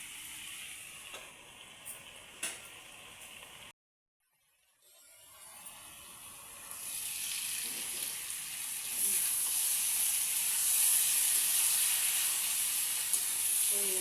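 Potatoes and mutton sizzle and fry in a pan, a steady hissing crackle that drops out briefly, then returns louder and denser, close up with occasional stirring scrapes.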